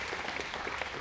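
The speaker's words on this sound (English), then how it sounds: "Let's give them a good round of applause." Brief, faint applause from a debate audience, a quick patter of clapping heard at a distance.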